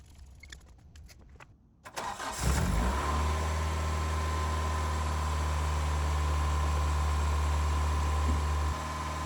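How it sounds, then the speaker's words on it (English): Toyota AE86 engine cold-starting after throttle position sensor calibration: a brief cranking burst, then the engine catches and settles into a loud, steady high idle that holds close and continuous until near the end. "And that's our cold start."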